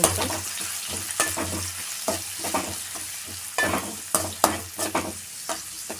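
Onions and tomatoes sautéing for Chettinad mutton vathakal, a close steady sizzle with rhythmic spoon scrapes and stirring knocks against the pan, no voices.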